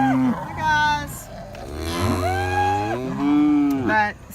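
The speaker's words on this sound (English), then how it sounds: "But so that's my cows." Several cows on a small farm moo in long, drawn-out calls close by, one low bellow after another with brief gaps between them.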